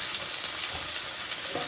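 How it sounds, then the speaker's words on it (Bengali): Onion fries lightly in hot oil with cinnamon and cardamom for a koi fish curry, a steady close sizzle with soft crackles and no talk. "হালকা একটু ভেজে নেব।"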